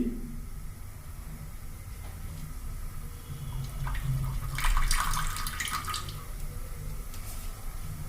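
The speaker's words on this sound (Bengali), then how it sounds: "রিফাইন তেলটা আমি দিয়ে দিচ্ছি" Refined oil poured into a pan, a continuous close liquid stream that swells into a brighter splashing pour around the middle, alone without talk.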